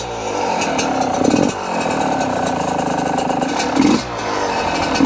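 A Yamaha YZ125 two-stroke dirt bike on choke runs with a steady, raspy buzz close by, rising in two short revs near the start and end, with no talk.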